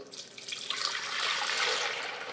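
Tap water runs into a container to fill it, a close, steady splashing stream that rises slightly as the vessel fills.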